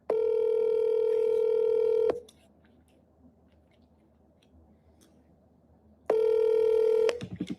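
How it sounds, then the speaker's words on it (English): A telephone ringback tone sounds on an outgoing call, with two long steady electronic rings, each about two seconds, separated by a quiet pause, loud and close. "Doesn't sound, too many rings. Voicemail right here."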